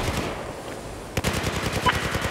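Rapid bursts of machine gun fire in Battlefield 4 rattle loud and close, with a faint start and then dense repeated shots in the second half.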